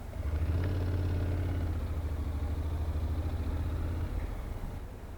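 A Honda NC750X motorcycle engine runs with a steady low drone as it pulls away in first gear, loud and close, the hum fading a little toward the end with no talk.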